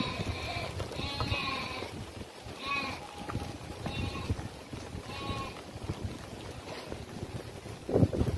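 A large flock of grey sheep bleating outdoors, many overlapping calls near and far repeating every second or so, with wind buffeting the microphone throughout.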